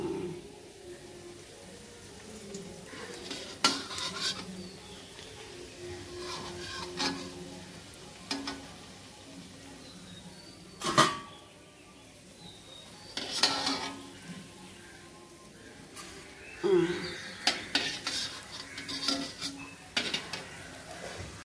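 Fried banana-flower fritters for vegetarian mochar dhoka being lifted out of a pan one by one, with scattered clinks and scrapes of a utensil against the pan over a faint, low sizzle, quiet and intermittent.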